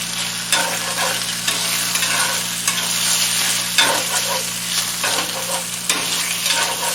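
Marinated chicken, coated in cornstarch, fries in a pan on high heat with a steady close sizzle, broken by scraping stirs and clatters as it is turned, and no voices.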